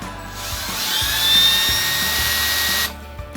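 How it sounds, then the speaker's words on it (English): A tiny drill bit whines at high pitch, boring wire channels in a DIY guitar tone capacitor sampler build, rising then holding steady for a few seconds before cutting off, close and alone without talk. "I'll go with a tiny little drill bit."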